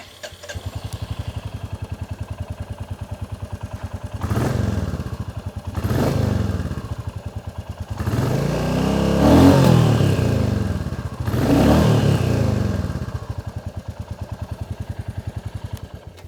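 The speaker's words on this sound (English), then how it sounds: "whether this motorcycle has a thump, and the answer is a resounding yes, it does. It still sounds great." A Royal Enfield Classic 350 motorcycle thumps steadily at idle, close and alone, broken by four throttle blips that swell and fall back, the longest a sustained rev in the middle.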